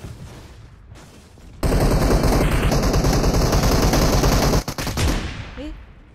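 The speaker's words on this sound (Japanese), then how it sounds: "どっから銃声してんのかと思った。" Automatic gunfire in the mobile battle-royale game PUBG Mobile: a loud, sustained burst of rapid shots lasting about three seconds, preceded by quieter game ambience and then tapering off.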